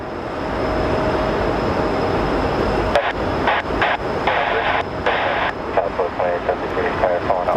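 A Prime Air Boeing 767 at Phoenix Sky Harbor Airport roars with a loud, steady jet-engine rush that fills the whole clip at close range.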